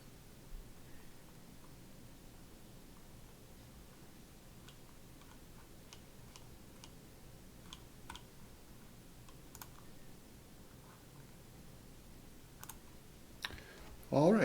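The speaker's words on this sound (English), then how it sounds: "And now I click Review and Submit." Sparse, faint computer mouse clicks in a quiet room during an online publishing task, single light ticks scattered irregularly, with a louder burst of voice at the very end.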